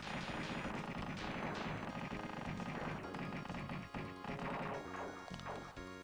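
Enemies firing homing shots in a Super Nintendo action game, a dense barrage of loud chiptune blasts and crashing impacts layered over continuous game music.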